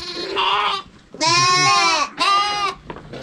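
Lambs and sheep bleat inside a dark barn on a mixed livestock farm, with three loud, close, drawn-out calls of rising and falling pitch separated by short pauses.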